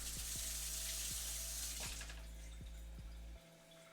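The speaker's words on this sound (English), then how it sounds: "Let me wash my hands real quick." Hands being washed under a running kitchen tap, a close, steady rush of water with small splashes that cuts off abruptly just before the end.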